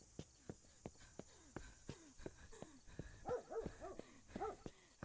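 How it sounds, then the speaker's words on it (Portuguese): A dog barking in the horror game Remothered: Tormented Fathers, a string of sharp single barks at an uneven pace that shift into whimpering, yelping cries toward the end, heard fairly faintly. "esse cachorro, ele tá me provocando"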